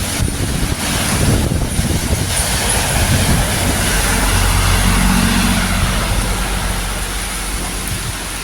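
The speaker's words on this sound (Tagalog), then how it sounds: "kita nyo naman napakalakas po ng hangin dito" A continuous heavy roar of strong typhoon wind in Leyte, Philippines, broadband and steady, with deep low rumble, sustained loudly throughout without speech.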